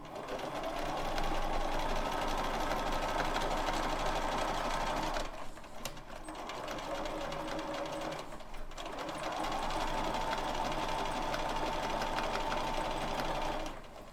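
Sewing machine stitching quilt-as-you-go lines, a steady close buzzing run that stops briefly twice and restarts, with no talk over it.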